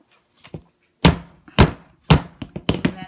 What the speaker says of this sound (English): Bang all the air out.